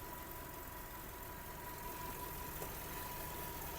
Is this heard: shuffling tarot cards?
no